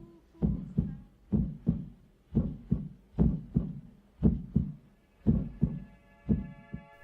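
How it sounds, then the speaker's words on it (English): Heartbeat from a Tarkovsky film thuds in a slow steady lub-dub rhythm, about a dozen deep muffled double pulses close and prominent, with a faint sustained tone entering near the end. "they may remember the sound of their heartbeat."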